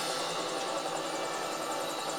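A helicopter in a Star Fox video game trailer, a steady whirring, buzzing rotor drone at moderate level holding constant throughout with no pauses.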